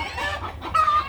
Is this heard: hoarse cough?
no